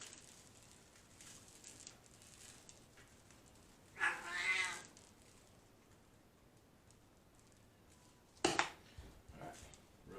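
A house cat meows twice, close by, first with a drawn-out wavering cry and later with a shorter, sharper one, over a quiet room with faint ticking.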